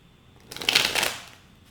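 A deck of tarot cards is shuffled in one quick riffling burst lasting about a second, close and crisp, with no one talking over it.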